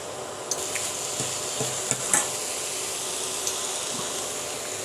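Cauliflower pieces go into a hot pan for a mixed vegetable curry, giving a soft steady sizzle with a few light stirring scrapes and small clinks against the pan, no talking.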